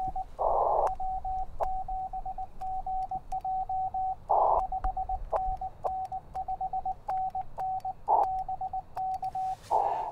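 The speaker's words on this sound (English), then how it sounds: "Continuous wave propagation is Morse code. We call it CW." Morse code continuous-wave signals received on an amateur ham radio, a steady tone keyed in rapid dots and dashes that repeat throughout, broken now and then by short bursts of static crackle.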